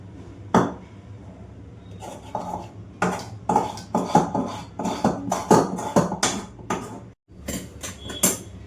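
Clattering metallic taps and scrapes as hot besan batter is spread and patted onto an upturned metal plate, a dense run of close, irregular knocks and clinks with a brief pause near the end.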